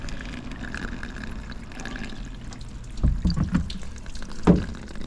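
Water poured into a cylinder of a Ford 4.6 DOHC engine runs straight back out, a soft steady trickle broken by a few louder splashy gurgles near the end.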